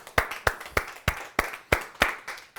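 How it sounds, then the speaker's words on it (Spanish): Congregation at a church service claps in a slow, unified rhythm, about eight sharp beats spaced evenly and fairly close, with no talking. "Un aplauso para el Eterno."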